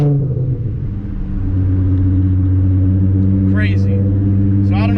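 A car with a loud exhaust revs hard through a downtown street lined with buildings, its deep droning rumble steady and close, with brief higher rasps near the end.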